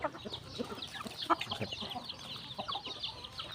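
Backyard chickens on a Thai farm raising native birds, joined by neighbours' hens at evening feeding, cluck and chirp continuously in quick, overlapping bursts at close range without talk.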